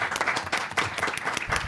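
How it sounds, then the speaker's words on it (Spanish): Brief burst of audience applause at a monthly academic session, a close, dense patter of many hands clapping with no voices over it. "un aplauso para ellos"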